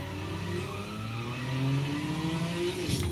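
A racing car engine in the mobile game CSR2 Racing, without a turbo, drones steadily and climbs in pitch as it accelerates, loud and continuous, with a brief tire squeal near the end.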